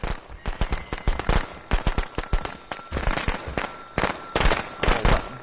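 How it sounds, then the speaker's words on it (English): Firecrackers pop in rapid irregular bursts in the Friday the 13th video game, loud sharp cracks clustered over several seconds, no talk. "She managed to get me with the frickin' firecrackers."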